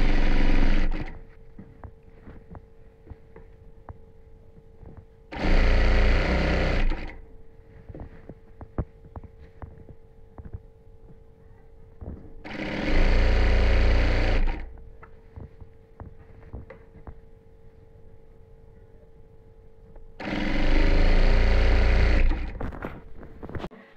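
An electric sewing machine stitching a cotton housecoat runs in three loud, sustained bursts of a few seconds each, separated by quieter gaps with a steady background hum.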